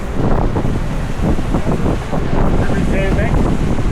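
Strong wind and breaking waves batter a sailboat during a squall on an Atlantic crossing, loud buffeting wind noise against the microphone with churning water and a voice briefly in the mix.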